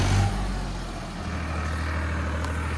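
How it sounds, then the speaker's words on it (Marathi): A tractor engine runs steadily and close by on a rural village track near a river, a low continuous rumble with a slight surge at the start, with no talking over it. "आता हे ट्रॅक्टर धुईला चाललेलं भावानं."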